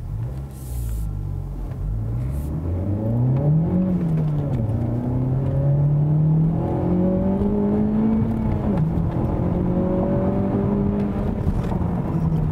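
2017 Honda Civic Type R engine accelerating hard on a track, the front-wheel-drive car's revs climbing through several gears with brief shift dips, a loud sustained rising drone with no talk.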